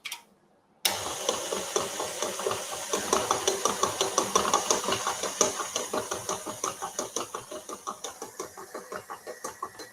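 An electric mixer beats cake batter with lemon juice for a date walnut loaf, switching on after a brief pause into a close, continuous whirring with a steady rhythmic pulsing of the beaters.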